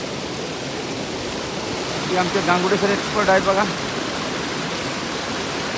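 Mountain stream water rushing down from the Sahyadri hills at night, a steady broadband roar of flowing water throughout, with someone speaking briefly over it midway.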